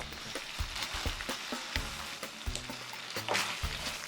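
Fried eggplant dropped into a pan of sizzling tomato pasta sauce for pasta alla Norma, giving a steady close crackle and hiss with irregular stirring clatters and pops throughout, no voices.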